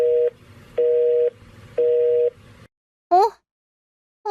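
A telephone call goes unanswered: three steady electronic tones pulse with even gaps, then after a short pause a brief warbling electronic chirp sounds.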